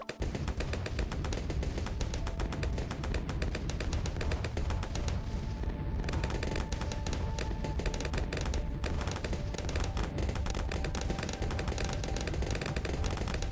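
Mortar towers firing in the Bloons TD 6 tower defense game, a rapid, relentless stream of popping shots and impacts packed tightly together, loud and constant throughout with only brief gaps in the high crackle.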